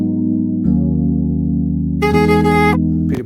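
A dry saxophone loop in an Afroswing beat plays with no delay or reverb, sustained low notes that shift pitch a few times, a brighter note near the end, steady and loud with no talk.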